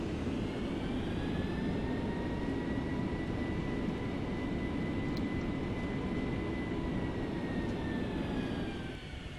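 A Boeing 757 in Flight Simulator X rolls out after landing, its jet engines giving a steady, loud droning whine with faint tonal hums. The sound holds constant throughout and then eases slightly at the very end.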